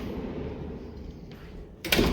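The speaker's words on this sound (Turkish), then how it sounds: "Hemen şuradan şu kapıyı açalım." A Volkswagen T6.1 Multivan door rattles and clunks open near the end, a sudden louder burst after steady low background rumble.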